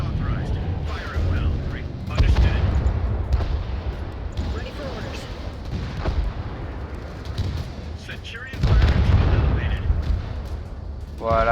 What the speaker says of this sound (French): Là, on a la position qui tire sur les ennemis.